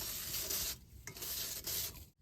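Heated sand being stirred in a pan for roasting peas, a soft gritty scraping that comes in raspy bursts with short pauses between strokes.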